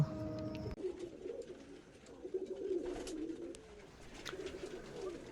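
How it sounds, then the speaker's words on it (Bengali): Giribaz pigeons from Rajshahi coo in a low, rolling murmur, several soft calls repeating close by with no one talking over them. "এই যে এখানে একজোড়া সাপচিলা কবুতর দেখতে পাচ্ছেন"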